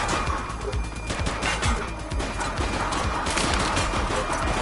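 Dense, continuous video-game gunfire from The Precinct, a loud fusillade of overlapping rapid shots and bursts crashing without pause throughout, up close and filling the whole stretch.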